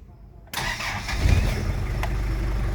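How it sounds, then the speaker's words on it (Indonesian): A 1992 Toyota Taft GT F70 4x4 engine cranks and catches abruptly, then settles into a smooth, steady mid-pitched idle close to the microphone. "suara mesin masih halus"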